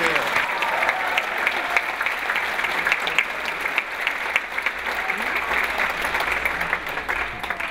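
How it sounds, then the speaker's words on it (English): Loud, sustained clapping from the audience for the kids at a film festival, continuous and even throughout, with no pauses or separate sounds standing out. "kids, give yourselves an applause"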